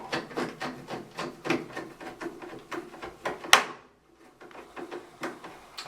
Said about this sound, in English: we need to tighten this hose clamp